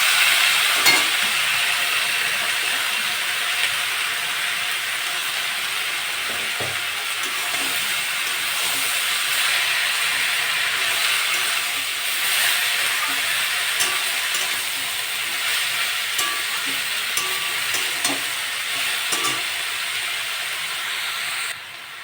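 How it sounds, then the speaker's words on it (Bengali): Banana flower fries in a pan with browned garlic for a Bengali chorchori, giving a steady, close sizzling hiss broken by occasional clicks of stirring, continuous and fairly loud. "রসুন দিয়েছি, রসুনের কাঁচা গন্ধটা চলে গেছে, ভাজা ভাজা হয়ে গেছে। আমি এবার মোচাগুলো দিয়ে দিই।"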